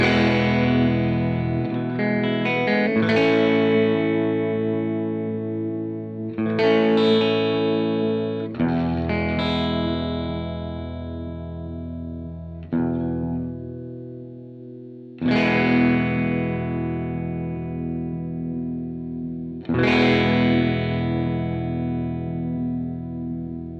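Electric guitar chords through an Electro-Harmonix Stereo Pulsar Nano tremolo pedal on square wave ring out with a choppy, pulsing effect that switches sharply and rhythmically, each strum decaying slowly between new chords.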